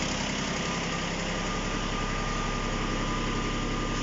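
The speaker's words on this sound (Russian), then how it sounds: "Трехцилиндровый движок не работает, а шепчет." A Japanese three-cylinder mini tractor engine idles quietly and steadily, a smooth, even hum with a soft rhythmic throb that holds unchanged throughout.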